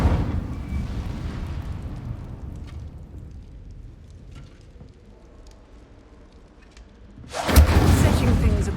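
A sudden roaring burst of flame from the Incendio fire spell in the wizarding game Hogwarts Legacy, erupting loudly near the end after a stretch of low rumbling ambience.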